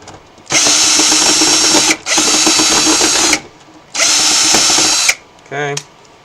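Power screwdriver removing screws from an Atari 2600 console, three loud, close, sustained whirring runs of about one to one-and-a-half seconds each with short pauses between, followed by a brief higher-pitched whine.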